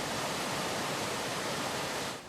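Whitewater rapids roaring through a mountaintop whitewater course in western Maryland, about 250,000 gallons a minute, a dense, loud, unbroken rush of water that fades slightly at the very end.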